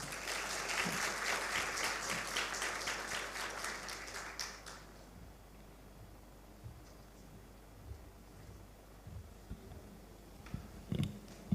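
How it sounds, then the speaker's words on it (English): An audience at an international medical sciences seminar claps steadily for about five seconds, and the applause fades into quiet room noise broken by a few faint clicks and rustles. "Let's give a warm round of applause."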